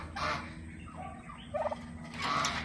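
Farm turkeys of breeder age, fat and moulting, gobble in loud bursts at the start and end, with a shorter rattling gobble in between over steady background noise.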